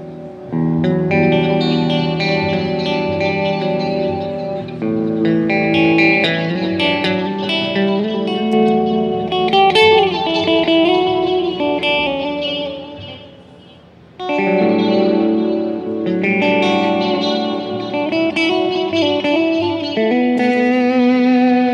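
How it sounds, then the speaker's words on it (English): A clean electric guitar rings out through a Laney IRTX amp's clean channel with chorus, reverb and echo, playing loud shimmering chords and notes with a short dip midway. "Now we'll add a few effects into the IRTX."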